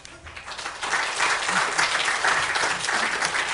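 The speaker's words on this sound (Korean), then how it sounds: "목사님 나오실 때 박수로 환영하겠습니다" A church congregation at a Friday prayer meeting breaks into steady, full applause to welcome the pastor to the front, the clapping building after a quieter start and holding dense and loud throughout.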